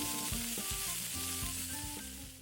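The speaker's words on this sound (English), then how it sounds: "It was smoking hot, so I added in a couple tablespoons of olive oil and then placed the steaks inside." Steaks searing in olive oil in a smoking-hot cast iron skillet, a steady loud sizzle with crackling spatter holding evenly throughout, no voices.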